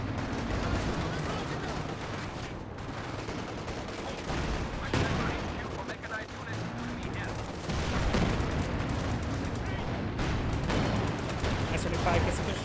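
Dense gunfire and heavy explosions from a Company of Heroes 2 battle, including a satchel charge destroying a Panzer 4 tank, rumbling continuously with repeated blasts under a commentator's voice.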